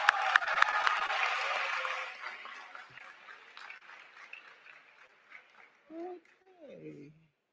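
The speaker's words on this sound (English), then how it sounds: "Can we give the governor one more round of applause?" Audience applause at a Lincoln University commencement for the Maryland governor; loud clapping and cheers open, then thin out and fade, and a voice talks over the tail end.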